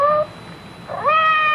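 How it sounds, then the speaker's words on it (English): A cat meows outside a door as a radio-drama sound effect, with two clear, fairly loud meows separated by a short pause, the second rising and drawn out. "Did you hear anything? Outside the door. It sounded like Madame's cat, Francois."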